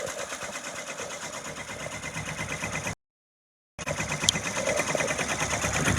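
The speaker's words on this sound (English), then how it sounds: "I am loving the way this is stitching" A Brother PR680W embroidery machine stitching a garden flag gives a fast, loud, even mechanical rattle close by, cutting out briefly for under a second before resuming at the same rapid pace.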